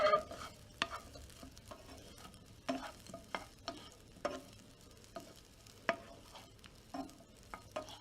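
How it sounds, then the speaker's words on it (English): Foraged nettles and chickweed cook in olive oil in a pan as a spoon stirs them. A soft sizzle runs beneath a series of close, regular scraping strokes, about one every second, with no talking. "So let's give it a little stir."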